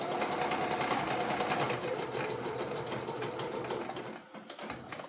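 A home sewing machine stitching a tote bag, a loud continuous mechanical whir with rapid needle clatter that runs steadily and then falters and stops near the end.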